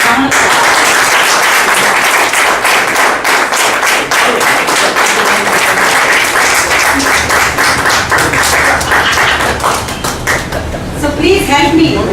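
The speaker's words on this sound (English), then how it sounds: "Why don't we give him a big round of applause?" An audience at a club gathering bursts into a big, loud round of applause, dense continuous clapping from many hands that holds steady and close for about ten seconds before thinning slightly near the end.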